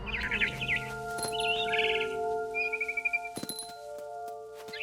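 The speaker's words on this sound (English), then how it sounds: "Then I heard chirping outside my window. It was a barn swallow going back to her nest." A barn swallow chirps in the video game What Remains of Edith Finch: bright, quick bird calls come in short bursts near the start and again midway, over a steady game ambience with a few faint clinks.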